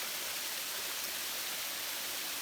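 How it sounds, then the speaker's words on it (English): Steady, full broadband rush of a waterfall beside the Sweat Heifer Creek trail in Great Smoky Mountains National Park, close and continuous with no pauses or voices. "enjoy the waterfall, stick my head under there."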